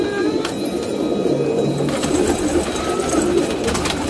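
Caged pigeons coo softly and repeatedly against a steady, busy background hum, with a few sharp clicks and rustles, fairly close, with roosters nearby.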